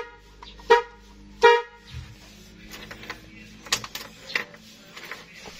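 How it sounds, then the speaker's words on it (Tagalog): Two loud, sharp honks from a relocated horn on a customized vehicle in Mabini, Batangas, spaced under a second apart, followed by softer clicks and mechanical rattles. "Nilipat ko rin yan busina sa gitna."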